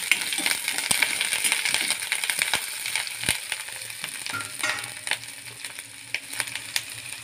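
Curry leaves, mustard seeds and fresh onion sputter and crackle in hot oil in a home kitchen pan, a steady close sizzle with sharp scattered pops throughout, no talking.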